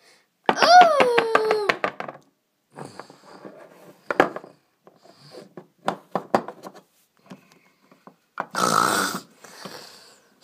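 A voice imitating loud snoring in a playful skit: a long rasping inhaled snore at the start, scattered murmurs and breathy bits, then another harsh snort-like burst near the end. Close and fairly loud, with no steady background.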